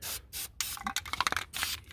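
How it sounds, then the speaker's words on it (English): An aerosol can sprays black paint onto a new brake caliper and rotor on a C10 pickup, heard as close hissing bursts broken by short pauses and faint clicks and rubbing. "Might see if I got a little black paint spray on it real quick just so it won't rust"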